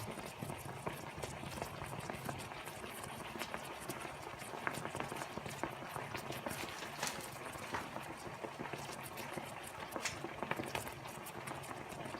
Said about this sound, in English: It is still bubbling.